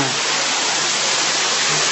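Water pours steadily from an artificial waterfall at a Buddhist temple, a dense, continuous splashing rush that stays loud and even throughout with no voices over it.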